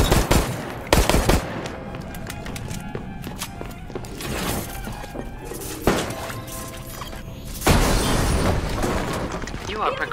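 Video game gunfire: bursts of rapid automatic shots and sharp cracks, loud and close, with metallic clatter between volleys and a voice talking partway through.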